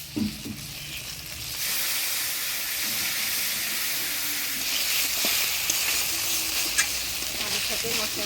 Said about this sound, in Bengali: এবার দিয়ে দিচ্ছি বাটা মশলা